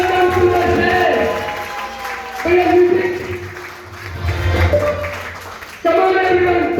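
An audience at a company rank ceremony claps continuously, with crowd noise and an amplified voice over it, the applause swelling and dipping in waves.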